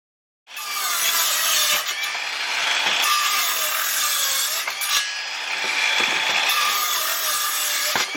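A DeWalt DCS391 20-volt cordless circular saw rips through wood, 2x4 lumber or 3/4 plywood, with a loud, sustained whining cut that dips and surges briefly a few times, no talking.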